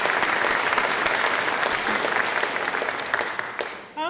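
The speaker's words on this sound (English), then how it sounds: "So if we could give all of our sponsors and partners a big round of applause." Audience applause at a textbook symposium's welcome session, honoring sponsors and partners: a dense, steady wash of clapping from a room full of people that holds for about three and a half seconds before cutting off abruptly.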